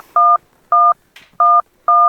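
Telephone keypad tones from a number being dialed, four evenly spaced dual-pitch beeps, loud and close, with a brief soft rustle between the second and third.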